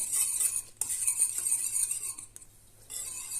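A utensil scrapes and swirls steadily around a pot of semolina milk pudding, continuous stirring with faint clinks and a brief pause near the end, no talking.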